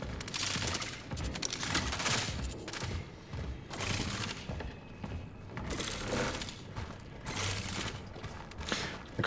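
Rapid carbine gunfire in the video game Cronos: The New Dawn, loud sustained bursts of shots with mechanical clatter filling the whole stretch, no talking.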